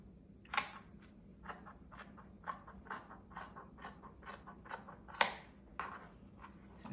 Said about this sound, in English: Now I'm going to cut my salvage off.